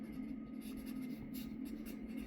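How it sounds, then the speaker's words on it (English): Pen scratching on paper as seed details are written down, a close, quiet, steady scribbling with a faint hum underneath and no talk. "I got to write this down on my paper."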